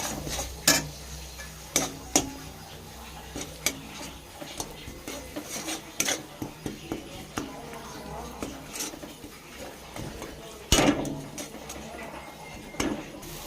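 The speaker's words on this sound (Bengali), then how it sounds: "ভালো করে নেড়ে নেব।" Spiced mashed green banana (kacha kola) stirred in a pan, giving irregular scraping and clacking taps of a utensil against the pan, close and fairly loud, with a few sharper knocks.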